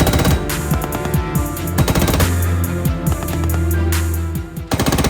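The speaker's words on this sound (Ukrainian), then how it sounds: "Увага! Постріл!" Loud, sustained machine gun fire from a joystick-operated mount, rapid repeated bangs and heavy low rumble, continuous for several seconds, then ending abruptly.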